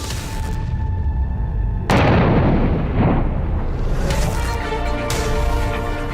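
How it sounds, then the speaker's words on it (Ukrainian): Sapper cadets on a field exercise carry out a controlled detonation of an ammunition charge outdoors. One loud, sudden blast hits partway through over a steady background, then its rumble slowly dies away. "Після докладу командир подає команду взрив. Нажимається кнопка взрив."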